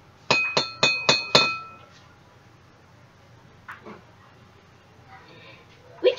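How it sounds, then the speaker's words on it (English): A glass filled with plenty of water is tapped five times in quick succession, giving bright ringing clinks that fade, followed by quiet gaps with a few faint knocks and shuffles nearby. "Then hit the glass with the most water."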